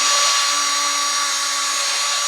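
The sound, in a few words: drill spinning valve against seat with grinding compound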